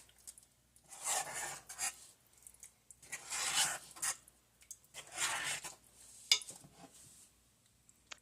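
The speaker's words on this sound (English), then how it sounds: "I'm just stirring it up because as it's getting hot" Chili dog casserole stirred in a pot as it heats: a spoon rasps and scrapes against the pot in several separate drawn-out strokes, close and quiet, with short pauses between.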